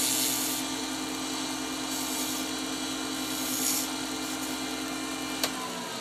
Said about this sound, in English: So we're going to go a push cut.